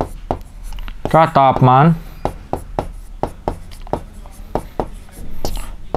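Marker or chalk strokes on a classroom board during a maths lesson on integers, a quick run of short scratchy taps spread across the clip, with a teacher speaking briefly over them.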